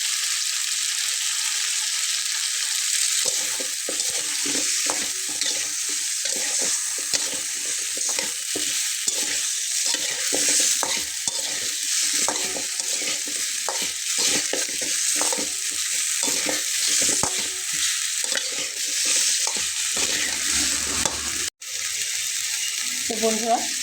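Vegetarian dish being stir-fried in a pan, a steady sizzle with scraping stirring strokes running throughout, close and fairly loud, with a brief faint tap or water sound near the end.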